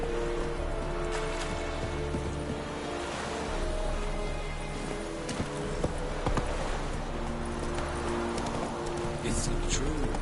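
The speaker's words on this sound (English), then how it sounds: "Whoa there, Roach." In a video game, horse hooves clip-clop steadily over a constant bed of rain and ambient game sound, with voices talking over it throughout.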